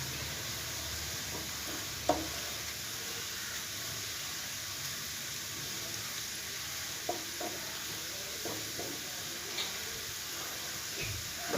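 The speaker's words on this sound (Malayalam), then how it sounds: "നമ്മളെ സവാള ഫ്രൈ ആയിക്കൊണ്ടിരിക്കുന്നുണ്ട്" Sliced onions fry toward golden brown in coconut oil for a chicken roast, giving a soft, even sizzle throughout with a few faint ticks and clicks.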